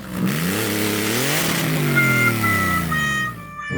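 A Volkswagen Transporter 2 van with a Porsche engine and rear-wheel drive revs hard and loud, its pitch climbing and sweeping upward in a long throaty surge before cutting off near the end.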